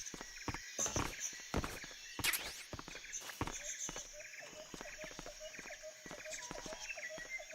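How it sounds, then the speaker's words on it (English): Footsteps from the stealth video game Metal Gear Solid 3, a steady series of soft thuds and scuffs stepping along, moderately close, with faint ambient game background and no talking. "Footsteps."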